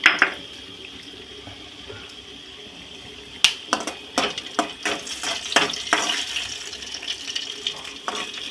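Nuts and raisins frying in oil in a pan, a steady soft sizzle with a cluster of crisp crackles and pops that become frequent in the second half, close and fairly quiet.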